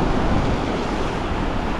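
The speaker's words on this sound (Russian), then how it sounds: "Смотрите, какая волна идет." Surf rolling onto a wide beach in Turkey at sunset, a continuous loud wash of breaking water with wind rumble on the microphone and no voices.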